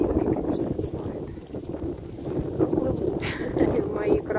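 Strong wind roars and buffets the microphone continuously, rising in gusts toward the end, with a voice speaking underneath.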